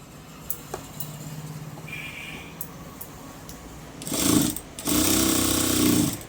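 A sewing machine stitching lining onto the main fabric with a long stitch, with light clicks and handling at first, then two loud close bursts of rapid mechanical whirring, no talking.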